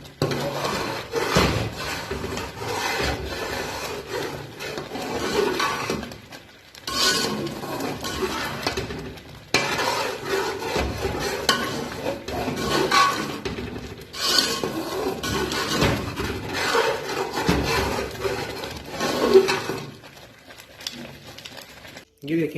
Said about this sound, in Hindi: अब आपने चम्मच हिलाते रहना